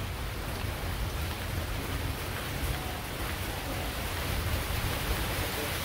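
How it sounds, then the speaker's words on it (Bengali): Steady rain pours at a home in rural Bengal, a dense, even hiss of falling water that fills the scene evenly from start to finish, with no voices. "এই যে আমাদের এখানেও আর কি বৃষ্টি হয়ে গেছে"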